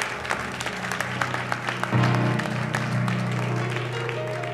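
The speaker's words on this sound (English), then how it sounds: "give God a hand clap of praise right there" A church congregation breaks into steady applause as a clap of praise, a dense crowd of claps that swells partway through and continues under a low sustained tone.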